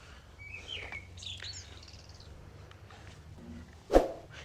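Small birds chirp in short, high bursts in a quiet hillside village, with a few scattered calls early on and a sharper, louder chirp near the end over faint background hush.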